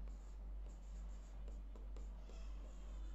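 Rhythmic scratching strokes of writing the word Comilla on a board in a classroom, faint and close, repeating in short bursts with steady low hum beneath.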